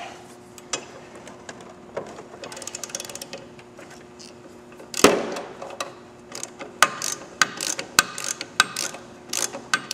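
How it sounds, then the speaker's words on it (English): A ratchet wrench tightens a lock nut on a motorcycle handlebar bolt, irregular clicking and mechanical rattles, sparse at first then in a denser run of sharp clicks, fairly close. "Reach under there, get on that nut."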